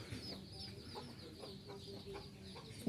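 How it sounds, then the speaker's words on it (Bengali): Free-range village chickens clucking softly in a rural Bangladeshi yard, a low continuous murmur of hen sounds with a faint higher chirp, fairly distant amid background ambience. "গ্রামীণ পরিবেশ গ্রামীণ মুরগি"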